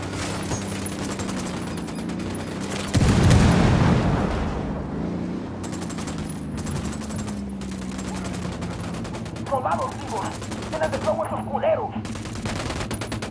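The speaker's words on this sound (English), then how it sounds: "Opening fire." Gunfire in Ghost Recon Wildlands erupts in a loud dense burst around three seconds, followed by scattered shots and crackling bursts of fire later on, over a low engine-like hum, with voices speaking in between.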